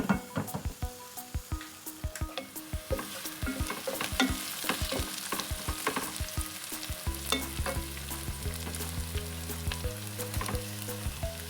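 Sautéing in a pan for white chicken biryani, a steady close sizzle broken by frequent sharp scraping stirs, with a deeper bubbling frying sound taking over toward the end.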